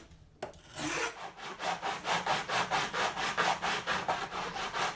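Steady rhythmic rasping of sandpaper on acoustic guitar wood in a radius dish, about a dozen back-and-forth strokes close up, loud and scratchy with no talking.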